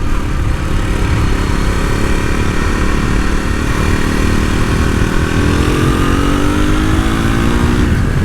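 A Triumph Scrambler 400 X motorcycle engine accelerates under load, its steady close drone climbing in pitch through the rev range over about eight seconds, alone without talk.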